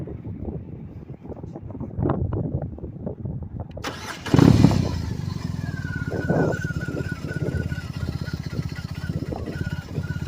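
BMW R18B bagger motorcycle with a boxer engine: a low exhaust rumble fires up partway through and settles into a steady, throaty idle with a faint whine, heard close over wind buffeting after earlier soft knocks.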